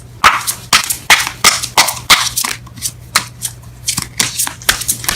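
A deck of tarot cards is shuffled in quick repeated riffling bursts, close and crisp, about a dozen flurries in a steady rhythm.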